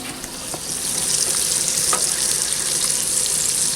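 Steady, bright sizzling of freshly caught fish frying in a pan, a continuous hiss with occasional pops and crackles, close by and without any talking.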